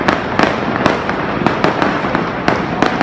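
Fireworks exploding outdoors, a rapid irregular series of loud cracking bursts over a continuous rumbling crackle, fairly close and with no talking.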